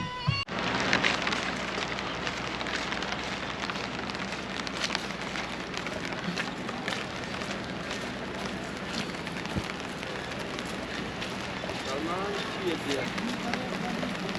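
Steady rain falls across an outdoor shoot during a birthday celebration in Jammu, a constant dense patter at moderate level with faint voices in the background.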